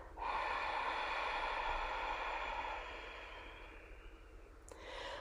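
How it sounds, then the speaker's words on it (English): A long audible exhale through the nose during meditation, a breathy hiss that holds steady for a few seconds, then softens and trails off, close and quiet with no talking. "make a little sound on your exhale"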